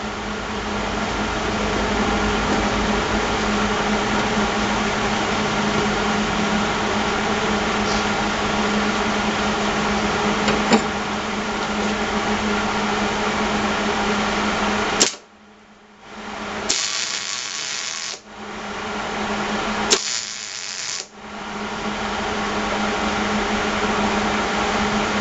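Steady electric buzz of tack welding a steel patch plate onto a lawn leaf vacuum's blower housing, a long continuous weld broken by short pauses and brief restarts, close and loud.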